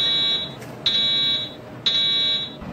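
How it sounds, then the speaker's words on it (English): An Edwards EST fire alarm speaker strobe at a PATH station sounds a loud, piercing electronic tone in three long pulses with short gaps, echoing in the station with no talk. "Another alarm. This one is a speaker strobe."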